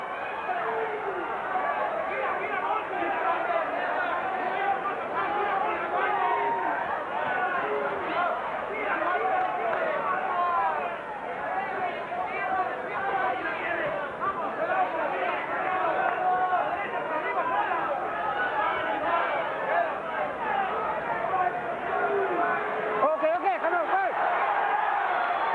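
A full-house boxing crowd at the Meldrick Taylor vs Primo Ramos rematch, with supporters chanting for Primo, makes a dense, steady roar of voices and chatter that stays loud and unbroken throughout.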